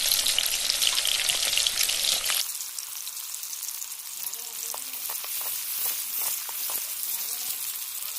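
Oil sizzles loudly with a bright, hissing crackle for the first two seconds, then drops to a softer frying hiss with scattered pops and stirring clinks. Crushed ginger, garlic and chili have just gone into the pan.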